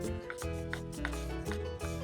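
A knife slices through golden fried squid stuffed with pork, giving about five crisp, evenly spaced cuts against a board over a steady background hum.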